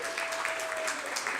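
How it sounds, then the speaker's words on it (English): Audience applause at a panel session of a public education summit, a short burst of steady clapping that stays fairly faint and even throughout. "So if we can give a round of applause for our second panel here."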